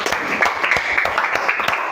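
Students applaud together in a room, a dense wash of many hands clapping with irregular sharp claps standing out over about two seconds, fairly close and steady.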